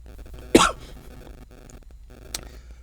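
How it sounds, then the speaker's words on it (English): A single short, sharp cough breaks the quiet, followed by a faint click and low background hum. "a little woofing cough"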